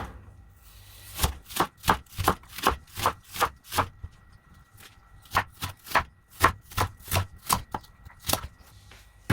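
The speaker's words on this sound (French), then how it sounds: "Ici, on va couper les oignons différemment" A knife chopping onions on a cutting board in a steady, brisk rhythm of about twenty crisp taps, pausing briefly midway before resuming, close and clear with no talking.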